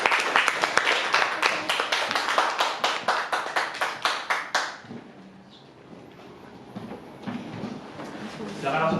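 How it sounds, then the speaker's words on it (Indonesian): A group in a classroom claps enthusiastically for several seconds after a group discussion; the applause fades out midway, followed by quieter room noise and faint movement. "Beri tepuk tangan untuk kelompok 2, teman-teman."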